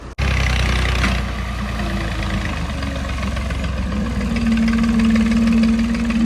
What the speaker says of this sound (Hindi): दो ट्रैक्टर लगे हुए हैं दोस्तों